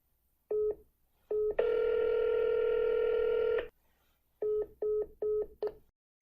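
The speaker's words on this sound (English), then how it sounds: "that's why you heard my call waiting ringtone there" Call-waiting tones heard on a phone line during a call transfer: short beeps in twos, a longer steady tone, then a run of quick beeps, each clean and separated by silence.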